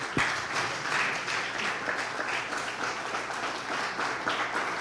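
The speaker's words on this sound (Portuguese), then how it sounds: "Fica de pé e aplauda o Senhor." A standing church congregation applauds the Lord, and the dense, sustained clapping fills the hall evenly from start to finish with no talk over it.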